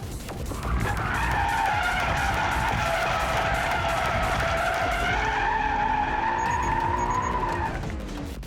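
Car drifting on a shift lock drift entry, tires squealing in one long continuous skid over a loud, steady engine roar that lasts several seconds before easing off, with no voices.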